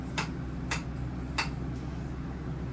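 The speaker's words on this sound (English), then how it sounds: "the top button, square knob, it rotates. And you hear it click." Square shower control knob turned by hand, giving three crisp clicks roughly half a second apart over a low steady background hum, close and quiet, no talking.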